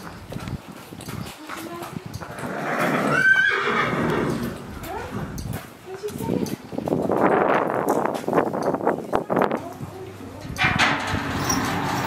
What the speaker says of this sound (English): She is not a Mustang, she's just a feral horse.